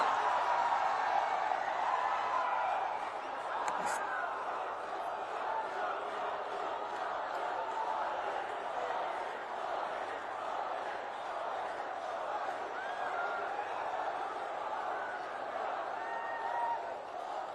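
A large rally crowd welcomes Prime Minister Narendra Modi with a steady, sustained roar of cheering and clapping that stays at an even, moderately distant level.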